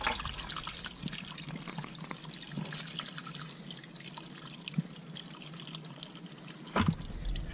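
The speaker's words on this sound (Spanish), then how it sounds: "Vamos a sacar un poquito el agua." Water poured out of a container while fishing tilapia fry from an artificial pond, a steady close trickle and splash that runs throughout with a brief louder splash near the end.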